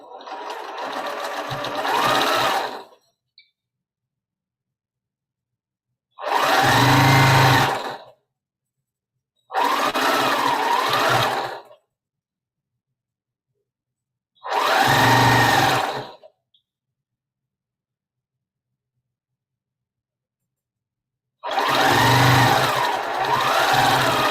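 A sewing machine stitches the bottom row of a star quilt block in five separate bursts of steady, close running, each a few seconds long, with silent pauses between them.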